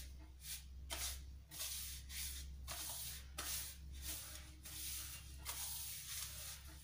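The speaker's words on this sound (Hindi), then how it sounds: "हमें अच्छे से मिक्स करना है इसको बिल्कुल अपने हाथों से" Biscuit dough being mixed with ghee by hand, soft rhythmic squishing and rubbing strokes repeating about once a second, quiet and close with no speech.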